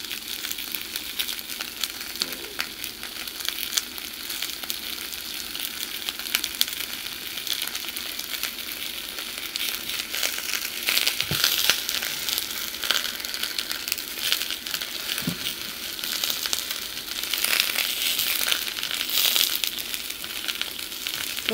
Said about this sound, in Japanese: 今日は生揚げ炒め。